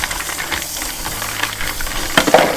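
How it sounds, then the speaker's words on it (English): Mussels rinsed in water for a second time before going into the pot: a steady rushing, hissing wash of water with a few louder splashes and clatters near the end. "I'm just rinsing the mussels for a second time before I add them to the pot"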